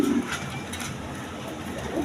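A pair of Bonti net pigeons coos close by in low, soft murmurs, strongest right at the start, over a steady background hiss.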